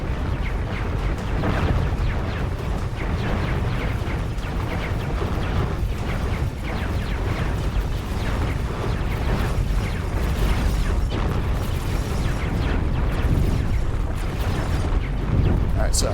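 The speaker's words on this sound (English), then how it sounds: "they're legit tactically strafing me right now" Sustained barrage of gunfire and booming impacts from enemy ships strafing the player in X4: Foundations, a dense, continuous roar of shots and blasts with no pauses, loud and close.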